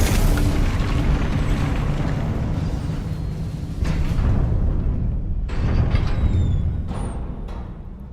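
A Confringo spell explosion in Hogwarts Legacy, with a heavy booming blast and rumbling burst followed by a second explosive surge and crackling debris, loud and close, fading at the end.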